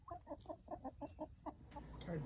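A hen eager for chicken feed clucks near the microphone in a quick, even series of about nine short notes, then breaks into a squawk against faint background rustle.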